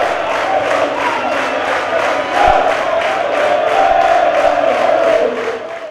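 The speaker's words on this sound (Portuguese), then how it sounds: "incendiou a torcida, que já estava bem satisfeita" A large football stadium crowd roars and cheers after a penalty goal in a Campinense versus Central match, a loud sustained wall of voices that swells midway and fades at the end.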